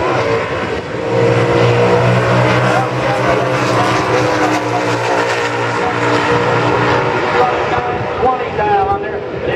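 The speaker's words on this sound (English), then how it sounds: "That's a Cobra Jet Ford Mustang, the 428 combination with the Bushrod small block." Cobra Jet Ford Mustang with a 428 combination and GTA automatic roars down a drag strip during an NHRA event, a loud sustained engine blast mixed with crowd and track noise, with announcer talk layered over it.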